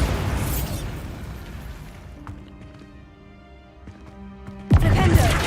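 A Bombarda blasting spell detonates in the Hogwarts Legacy video game: a sudden loud burst near the end, after a stretch of quiet tonal game music and soft effects.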